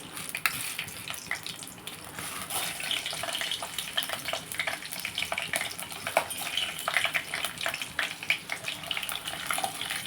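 Chana dal and urad dal frying in hot oil for masala upma, giving a steady close crackling sizzle with scattered pops and no talk.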